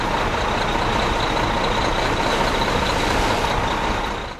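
A truck serving as the base of a tunnel-building machine runs steadily with a dense, continuous engine rumble and a constant high whine, loud and close throughout, easing off slightly at the very end.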